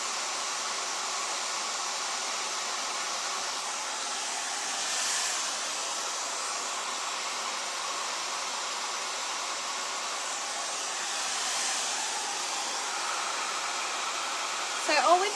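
A hair dryer fitted with a diffuser blows steadily on long coarse curls, a continuous close airy roar that swells gently as the dryer moves, with faint talk in the background.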